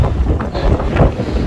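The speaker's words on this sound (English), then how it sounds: "the wind is really picking up now" Strong wind gusts roar across an exposed mountain ridge on a hill walk, buffeting the microphone with loud, continuous low rumbling and surging blasts that swell and ease without pause.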